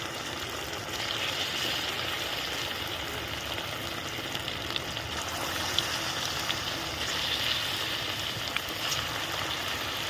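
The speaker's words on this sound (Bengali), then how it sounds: "এবার আমি মাংসগুলো একটা একটা করে পিস ছেড়ে দিব কড়াই দিয়ে দিচ্ছি।" Chicken pakoda pieces fry on low heat in oil in a kadai, making a steady, even hiss with occasional faint pops throughout.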